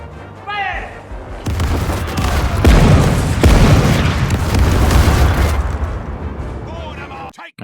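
Cannons fire in the naval battle game Caribbean Legend, loud booming broadside blasts rolling into several seconds of rumbling explosions and crashes, with a voice speaking briefly beforehand.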